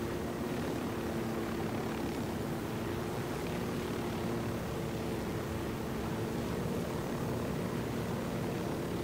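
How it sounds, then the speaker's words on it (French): Helicopter in Ghost Recon Wildlands, a steady engine and rotor drone with broadband wind noise that holds at an even level for the whole stretch. "L'hélicoptère est stabilisé, donc on va pas chercher plus ça."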